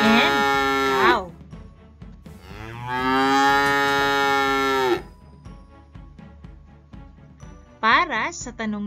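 Recorded cow moos are heard as several long, loud lowing calls, including two extended moos with quieter gaps between them, ending with a brief higher call.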